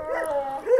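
A young purebred breeding dog gives a short, close, tonal bark that slides into a howl-like whine, loud and alone with no talk.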